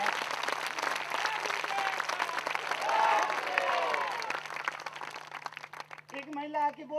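Audience clapping at a Jain monk's spiritual discourse, a steady wash of applause for about six seconds with a low hum underneath, then a voice begins speaking as it fades.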